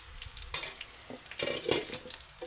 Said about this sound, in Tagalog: pritong bangus